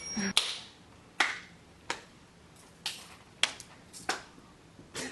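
Eight sharp, single hand claps passed around a group in an acting workshop ring out one at a time at uneven intervals of roughly half a second to a second, crisp with a short echo in a room.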